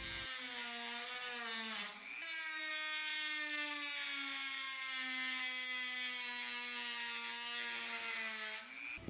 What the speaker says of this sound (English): We used a metal cutting disc for a Dremel tool.